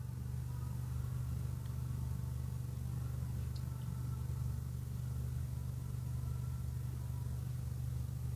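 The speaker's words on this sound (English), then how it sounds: "sounds like it could have been a car passing through." A car passing by outside, a low steady engine rumble that holds at a fairly even level throughout without any voices.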